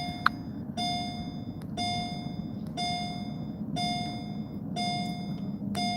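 An electronic device beeps repeatedly at a steady rhythm, each tone about a second apart and ringing out with a slight chime, over a constant low background rumble.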